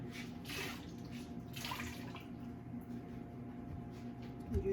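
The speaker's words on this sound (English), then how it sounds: "I need to squeeze the rag." A wet rag is squeezed by hand during recycled papermaking, letting water trickle and drip in a few quiet splashy bursts, faint and close.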